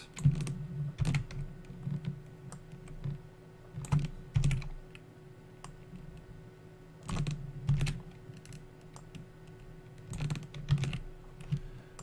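Typing on a computer keyboard in quiet bursts of rapid key clicks separated by short pauses, close by and fairly soft, with no voices.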